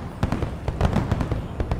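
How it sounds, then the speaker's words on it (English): Explosions in the video game Glittermitten Grove, a rapid string of sharp crackling pops like fireworks, bursting irregularly and fairly loudly without pause. "Where is all that explosions happening?"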